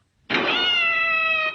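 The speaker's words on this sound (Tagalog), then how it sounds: "Inapakan pala yung buntot na pusa." A cat yowls after its tail is stepped on: one loud, sudden, drawn-out shrill cry that holds steady for over a second before stopping, alone with nothing else audible.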